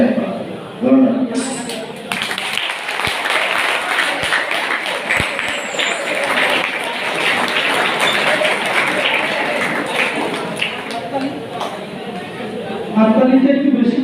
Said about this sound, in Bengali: হাততালিটা একটু বেশি পড়লো